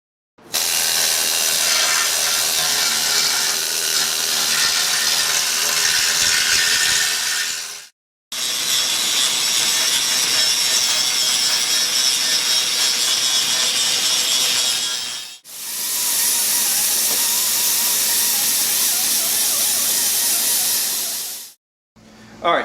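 A power tool scours rust and paint off the rear frame of a Jeep TJ Wrangler back to solid metal, running in three long, loud, harsh bursts of about seven seconds each, separated by brief pauses.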